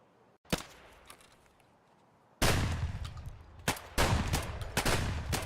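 Bursts of video game gunfire as a player shoots at a scav, several sharp shots and rapid volleys, loud and close, with a quiet gap before the heavier firing starts.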